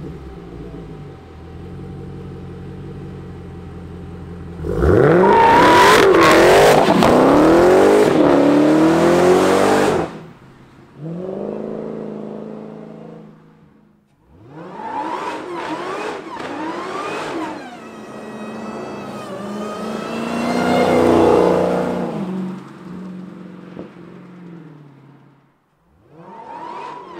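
A 2018 Dodge Challenger Demon muscle car engine revving hard, very loud and close: a deep rumbling idle broken by several roaring throttle blips that rise and fall, with sustained high revs near the end.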